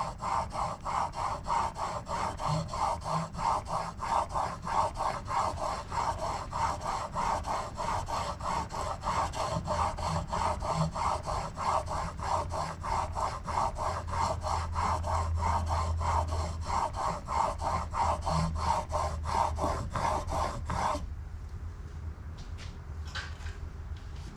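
An antique chisel being honed on a 1200 grit diamond sharpening stone with light pressure: steady, rhythmic back-and-forth rasping strokes, close and even, continuing for about twenty seconds before stopping abruptly into near quiet.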